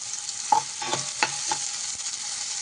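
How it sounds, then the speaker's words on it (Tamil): Sliced onions frying in hot oil, a steady bright sizzle with a few soft stirring clicks, close and even, no voices. "எண்ணெய் சூடானோன்னே நம்ம கட் பண்ணி வச்ச வெங்காயத்தை போட்டுக்கலாம் வெங்காயம் நல்லா வதங்கட்டும்"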